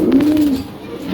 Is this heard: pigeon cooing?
yes